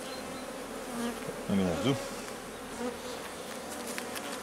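Honeybees buzz steadily around an open hive in an apiary, a dense close hum with a few louder passes near the microphone, and a man briefly mutters over it.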